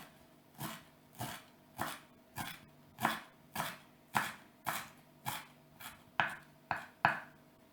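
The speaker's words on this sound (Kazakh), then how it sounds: "Енді шөптерді ұсақтап тураймыз." A knife chops herbs on a cutting board while a French-style baked meat dish is prepared, giving about a dozen sharp, evenly spaced strikes roughly twice a second. The strikes are close and clear, with no talking.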